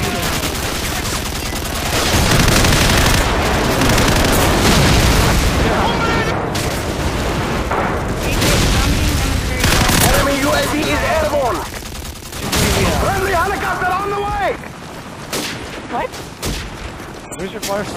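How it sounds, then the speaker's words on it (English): Airstrike explosions and heavy gunfire from Call of Duty 4 in Domination mode, with loud, dense booms and rapid fire rolling on throughout, voices talking over the din. "Friendly airstrike on the way."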